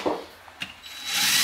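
Power tool running down the bolts that hold the lower half of a Yamaha YXZ turbo engine block together, a short close burst of whirring and rubbing that rises and swells toward the end.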